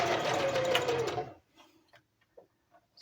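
A sewing machine stitching coveralls runs loud and close with a rapid steady whir for over a second, then stops, leaving a few faint clicks and handling sounds.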